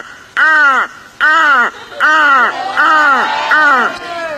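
Someone mimics a crow's caw, giving five harsh, nasal calls in a steady rhythm, loud and close, the last ones running together.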